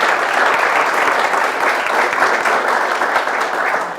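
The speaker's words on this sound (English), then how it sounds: "if you give them a round of applause" A steady round of audience applause at a 2024 State of the City address, dense, even clapping from a large crowd sustained throughout at fairly close range.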